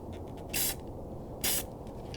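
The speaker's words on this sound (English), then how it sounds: "It also has that fan spray, so it comes out more like a paint gun." Two short hissing bursts of aerosol primer from a fan-spray can, each about a quarter second, separated by a pause over a faint low background rumble.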